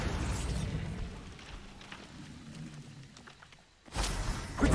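Bombarda spell explosion in Hogwarts Legacy: a burst and boom up front that decays into a rumbling tail, then a fresh loud blast toward the end, with no talking.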